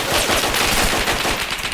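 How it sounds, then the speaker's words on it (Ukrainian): Rapid gunfire from the Roblox game The Lost Front crackles in a dense, loud burst of overlapping shots, like sustained machine-gun fire at close range. "стріляють"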